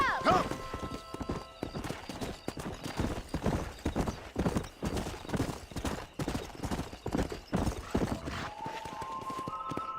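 Horses gallop at a steady clip-clop pace through an open stretch of Red Dead Redemption, hooves drumming continuously for ten seconds with a neigh near the start and a voice calling over the riding.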